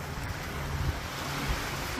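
Small sea waves at a beach in Alicante, Spain, a steady wash of surf with wind buffeting the microphone, moderate and continuous, no voices.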